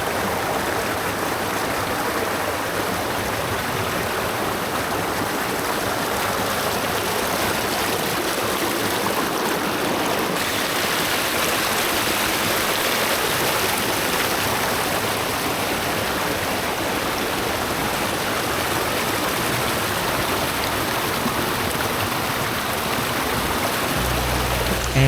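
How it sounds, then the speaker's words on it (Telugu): Water pouring steadily at Savri Waterfall in South Goa, a loud, unbroken rushing roar that holds constant and close throughout, with no voices. "ఫీల్ అవ్వండి వాటర్ ఫ్లోని."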